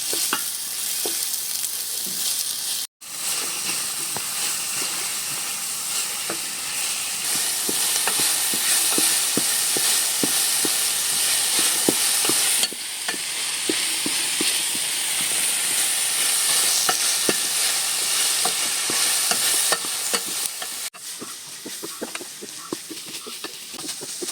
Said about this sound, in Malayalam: സവാള അടുക്കി പിടിക്കാൻ നമുക്ക് നല്ലോണം ശ്രദ്ധിച്ച് ഇളക്കി കൊടുക്കാം